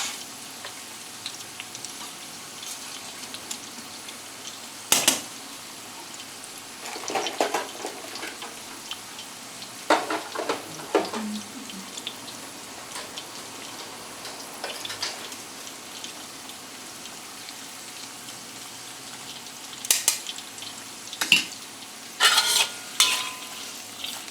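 Nongshim Farmer's Heart kimchi instant noodles cooking in a pot, a low steady bubbling sizzle broken by several sharp stirring clanks and scrapes of utensil against metal, close and alone.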